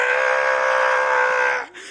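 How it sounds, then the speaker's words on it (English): A comic drama character screams in pain, delivering a loud, sustained, strained cry that holds for over a second and a half before breaking off abruptly, with nothing else heard. "he's screaming in pain and agony"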